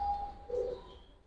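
Racer pigeons at a pigeon farm give a single soft, low coo in the middle of a brief, quiet moment, faint and close, with a thin steady tone running beneath it.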